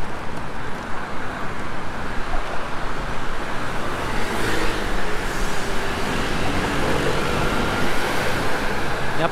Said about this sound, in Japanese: やっぱりね原付スクーター多いですね。